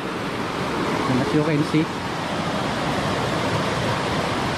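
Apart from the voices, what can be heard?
river flowing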